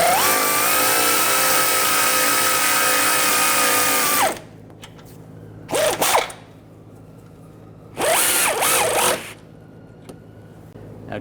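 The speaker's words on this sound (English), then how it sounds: "Tighten this nut and bolt down." Power tool tightening a nut and bolt on the front rearward lower control arm of a 2006-2010 BMW 550i, heard as a long continuous whir followed by two shorter bursts, close and loud with no talking.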